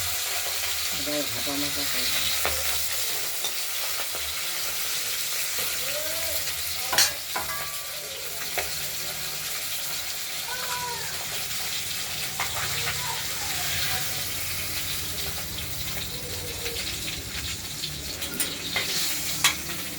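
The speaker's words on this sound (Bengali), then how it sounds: "মাছগুলো 1 পিঠ ভাজা হয়ে গেছে।" Pabda fish fry in oil in a pan for a Bengali curry, a steady close sizzle running throughout with occasional clinks and faint background voices.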